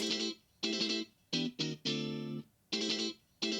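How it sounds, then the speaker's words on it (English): Dry, unprocessed chromatic funk guitar chords played in short choppy stabs with crisp gaps between them, sounding close and free of reverb. "Let's sculpt a little bit this chromatic funk guitar. Let's listen to it. It's quite dry."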